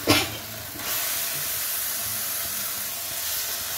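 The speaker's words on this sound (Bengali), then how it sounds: "দেখুন ঢ্যাঁড়সটা দিয়ে দিলাম" Okra dropped into hot oil in a pan gives a brief sharp burst, then a steady, close hiss of sizzling that carries on evenly with no talking.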